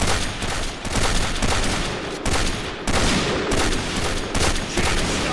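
An M200 sniper rifle fires in the shooter game Point Blank, letting out a series of loud, close, booming shots in an uneven rhythm, each blast followed by a short ringing tail.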